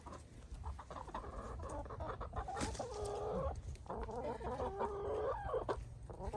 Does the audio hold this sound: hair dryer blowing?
no